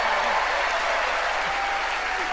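Audience applause for a magician's raw-egg trick on a televised magic competition show, a steady dense clapping from a large crowd filling the whole stretch without a break.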